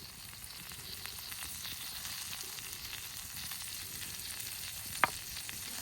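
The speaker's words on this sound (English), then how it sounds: "I'll give it a little bit of time for that paprika to cook out." Paprika sizzles and fries in a pan for a one-pan brunch, a soft steady crackle throughout with a single sharp tap near the end, no voices.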